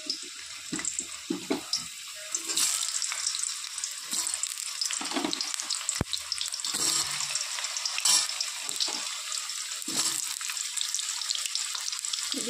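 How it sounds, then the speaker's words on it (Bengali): Cut potatoes frying in hot oil in a wok, a soft, steady sizzle with faint scattered clinks and stirring noises, quiet and close, no voices. "আলুগুলোকে একটু ভেজে নেব হালকা করে"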